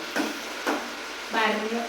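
Blended onion and tomato paste frying in oil in a pan, giving soft sizzling with three brief bursts of stirring, quiet and close.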